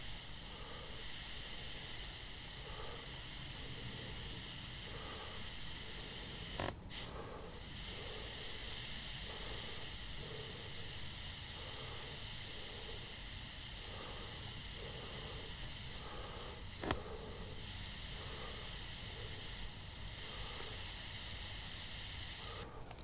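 An airbrush sprays paint in a steady, continuous hiss, with two brief sharp bursts partway through and faint rhythmic ticking beneath the spray.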